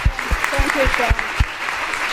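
An audience at a healthcare talk gives a round of applause, clapping heard under a speaker's brief thanks, with a few sharp thumps as the talking continues.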